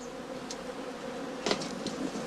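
Honeybees buzz steadily around heather straw skep hives in an autumn apiary, a low continuous hum with a few louder passes of individual bees near the listener.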